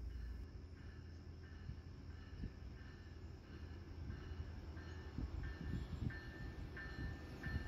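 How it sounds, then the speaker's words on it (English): Amtrak 365, the westbound Blue Water passenger train, rolls into the Durand, Michigan station with a steady low rumble of wheels and regular rhythmic rail clicks, moderately distant and with no talk. "Amtrak 365, westbound Blue Water, rolling into its Durand, Michigan stop."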